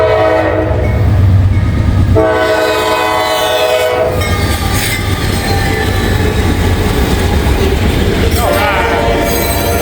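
A Norfolk Southern freight train passing at speed at night, loud and close, with the horn blaring, wheels squealing and rhythmic clatter of cars rolling by, while a voice speaks briefly at the start.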